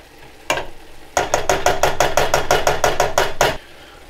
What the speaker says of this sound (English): let's stir that up a little bit.